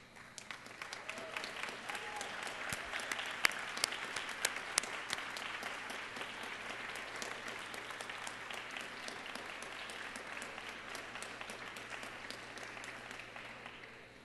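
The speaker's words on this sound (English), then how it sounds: "give them a big round of applause" Graduates at a college of creative arts commencement stand and applaud their families, giving sustained, even clapping that sounds fairly distant with a few sharper claps near the start.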